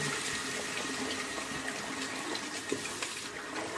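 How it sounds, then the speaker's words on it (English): A bathroom tap runs in a steady, close rush of water while hands are rinsed before a shave, a dense continuous hiss with slight splashing and no talk over it. "Alright, rinse my hands off here."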